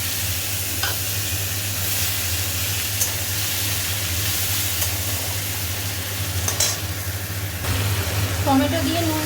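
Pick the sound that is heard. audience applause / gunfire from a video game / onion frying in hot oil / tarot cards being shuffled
onion frying in hot oil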